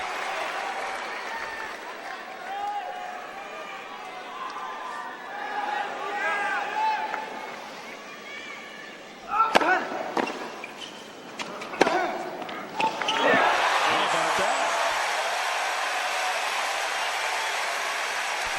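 Big sellout crowd at a Federer versus Djokovic tennis match, a continuous roar of cheering and applause that swells near the end, with a few sharp bursts in the middle and commentary voices speaking over it.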